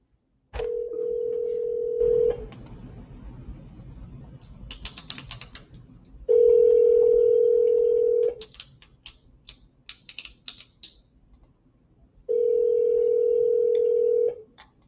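Outgoing call on a speakerphone ringing back, three long steady ring tones about two seconds each with pauses between, and soft clicking and tapping in the gaps.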